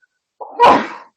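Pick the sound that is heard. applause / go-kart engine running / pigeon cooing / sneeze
sneeze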